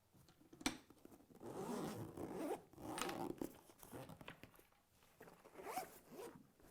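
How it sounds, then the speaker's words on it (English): A zipper runs open on the LifeBase 3 portable emergency equipment bag for the MEDUMAT Easy CPR ventilator, a close, quiet rasping pull in several uneven strokes with short pauses between them. "LifeBase 3 can be opened with a zipper for access to all necessary components."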